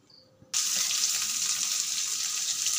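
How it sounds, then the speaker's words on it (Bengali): Cumin, radhuni and coriander seeds hit a hot pan with a sudden loud hiss, then sizzle steadily and close up for the remaining seconds. "একটু এখানে জিরে রাঁধুনি আর ধনে আছে, একটু ভেজে নেবো"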